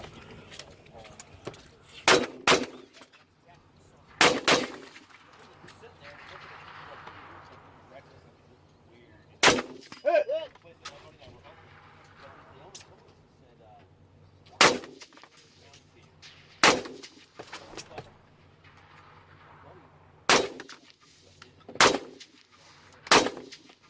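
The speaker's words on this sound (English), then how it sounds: "Let's shoot some long range and make it happen in this game." Sharp gunshots ring out at a Rock Castle Pro Am 2018 shooting competition, about ten loud cracks spaced irregularly over a quiet outdoor range, some in quick pairs, with a low steady hum beneath.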